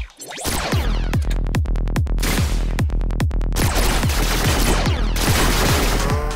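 Rapid gunfire in the video game M.A.D. Cows, loud close shots repeating in quick bursts, each ringing out briefly, continuous over several seconds with no talk.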